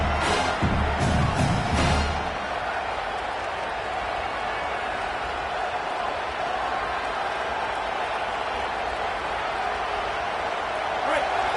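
A home crowd roars at a football game as the defense tries to get off the field on third down, a broad sustained stadium cheer that swells briefly at the start and then holds steady.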